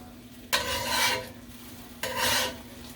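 Two bursts of sizzling scrape as a spatula turns an egg frying in a pan, each lasting about half a second, close and fairly loud over a steady low kitchen hum, with no one talking.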